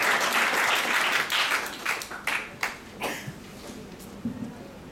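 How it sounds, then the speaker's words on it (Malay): An audience applauds a guest of honour at an evening customs department (JKDM) celebration of its 2015 achievements. The clapping is full and dense at first, then thins into scattered claps as it fades. "Sila berikan tepukan yang penuh kepada Datuk Seri dan juga"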